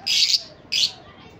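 Two short, bright calls from Gouldian finches, a buzzy chirp followed by another after a brief pause, close and clear.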